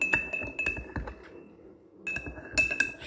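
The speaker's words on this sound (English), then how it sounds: "And here we are going to stir it" Spoon clinking against a glass while baking soda and salt are stirred into water, a run of bright, close taps and rattles with a short quiet gap mid-way.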